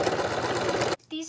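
A sewing machine stitches fabric pieces of a stuffed animal in a fast, steady close-up whirring run that stops abruptly near the end, followed by a brief voice.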